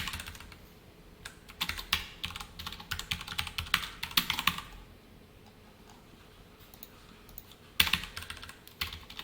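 A computer keyboard clatters under steady close-up typing, with fast irregular bursts of key clicks, a brief pause midway, then another quick flurry of keystrokes.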